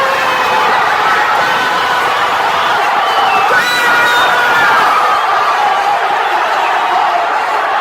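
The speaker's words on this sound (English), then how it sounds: "You would only get a cheering response, like this." A large crowd cheers and whoops in a dense, steady roar that stays loud and unbroken from start to finish, with no clear individual voices.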